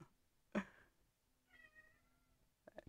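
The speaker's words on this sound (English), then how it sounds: "Kitty's over here. Obviously you can hear him." An indoor cat gives a short sharp meow, then a longer drawn-out meow about a second later, fairly quiet and close, with a faint start of another call at the end.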